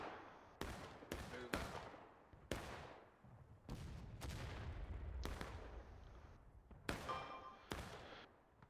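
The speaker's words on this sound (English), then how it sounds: "CSA is realizing that Smokey was still alive and they're shooting backwards" Musket shots crack in a Civil War video game match, about a dozen sharp reports arriving irregularly, some near and loud, others following in quick clusters, with a low rumble between volleys.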